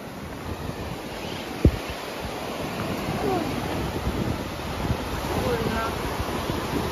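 Sea waves surging in at high tide after heavy rain, a rolling surf wash with steady wind buffeting the microphone and one sharp thump partway through, no speech.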